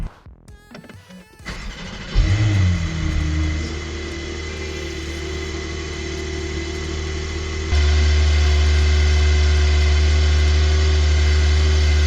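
A Porsche 911 Turbo S six-cylinder boxer engine starts and settles into a steady, mechanical drone with a faint turbo hiss on top, then the revs step up to a louder, deeper hum.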